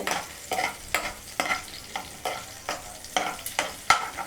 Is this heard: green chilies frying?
yes